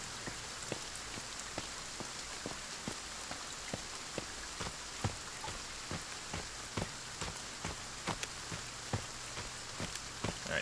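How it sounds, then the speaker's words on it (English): Steady rain hisses on surfaces in the game Friday The 13th, with a dense wash of drops and regular faint ticking hits throughout, and no voices. "anything to get out of the rain"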